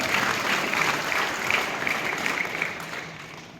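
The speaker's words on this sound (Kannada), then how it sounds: "ಜೋರಾಗಿ ಚಪ್ಪಾಳೆ ತಟ್ಟುವುದರ ಮೂಲಕ ಸಲ್ಲಿಸ್ತೇನೆ" Dense applause from an audience at a student awards ceremony, steady and loud throughout, then easing slightly toward the end.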